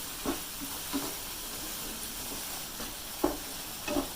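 Moong dal frying in ghee in a home kitchen, a steady soft sizzle with faint stirring scrapes recurring every second or so, fairly quiet and close.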